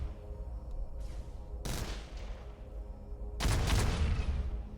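Ship guns fire in the space game X3: Albion Prelude, two bright bursts of shots over a low engine drone, the second louder and longer.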